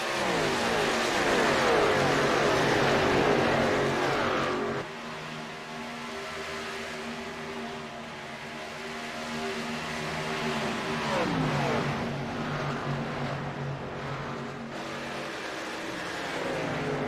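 Stock cars race at Atlanta Motor Speedway in a sim racing game, engines roaring and revving loudly as they pass. Pitch shifts through continuous, layered engine noise.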